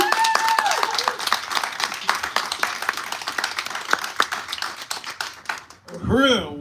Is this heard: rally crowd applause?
yes